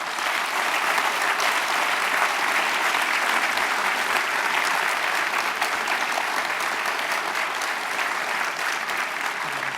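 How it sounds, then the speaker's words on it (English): A seated audience at an evening panel on the Iran deal gives sustained, even applause for distinguished guests, a broad wash of clapping heard alone. "please, a round of applause for our 4 distinguished guests."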